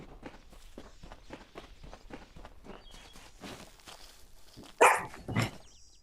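Dog barking during a video game session, with a couple of sharp, loud barks near the end after a steady run of footsteps. A faint voice is heard briefly.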